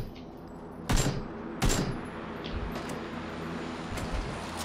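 Gunfire in PUBG, two sharp, loud shots a little under a second apart, followed by fainter, more distant pops over a steady background hum, with no voices during the shots.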